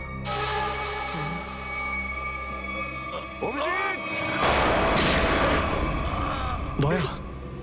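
Gunfire bursts in a CID TV crime drama scene, loud booming shots breaking over a sustained tonal music bed, with a couple of sharp impacts late in the scene.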